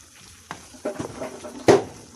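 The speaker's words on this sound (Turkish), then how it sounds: "Hepsini bunu güzelce karıştırıyoruz" Kokoreç fries in its own fat with tomatoes in a pan, no oil added, as a spoon stirs it, giving soft scraping strokes and a sharper clack over a low sizzle.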